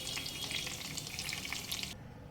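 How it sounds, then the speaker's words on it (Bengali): Pomfret fish fries in hot oil with a loud, dense sizzle that crackles steadily for about two seconds, then cuts off abruptly. "মাছ হালকা লালচে করে ভেজে নিয়েছি"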